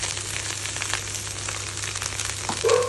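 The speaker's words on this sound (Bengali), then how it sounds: "নাও এটা good time to add the rice that we have." Leftover rice tipped into a pan of egg bhurji frying, giving a steady, moderately loud sizzle throughout with a brief louder surge near the end as the grains hit the hot pan.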